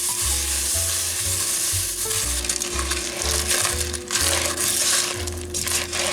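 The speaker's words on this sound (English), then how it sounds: "we're gonna stir in the corn flakes, and I'm gonna add a few more marshmallows" Corn flakes are stirred into warm melted marshmallows in a pan, giving a busy, close crunching and crackling with a sizzle-like hiss, steady and continuous with no voices.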